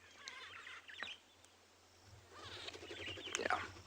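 Greater blue-eared starlings call around a South African safari waterhole in the afternoon heat, with bright chirps and squeaky notes scattered over a few seconds, fairly near and moderately loud.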